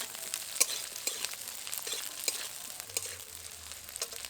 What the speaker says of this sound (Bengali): ক্যাপসিকামটাকেও একই রকমভাবে হালকা করেই ভাজবো।